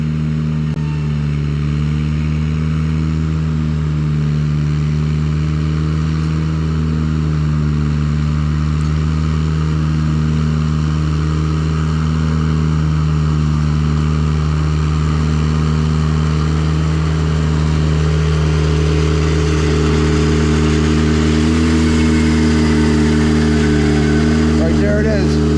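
A Ventrac radio-controlled machine's engine runs steadily at close range, a loud constant hum with a low drone, holding even throughout with no clear revving or shutoff.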